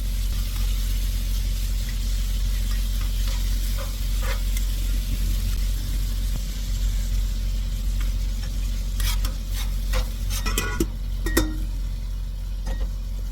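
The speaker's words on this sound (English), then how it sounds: "That's bacon cooking." Bacon sizzling on a flat-top griddle, a steady soft crackle and hiss under a low hum, with a few sharp scraping clinks of a metal spatula near the end.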